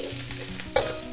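Onions and capsicum sautéed over high heat in a pan make a brief burst of sizzling and frying, with a quick scrape of stirring near the end and no voices.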